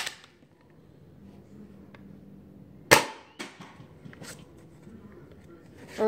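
A Nerf Tech Target blaster fires a dart with one sharp, loud snap, followed by a few lighter clacks and knocks of handling, close by in a quiet room.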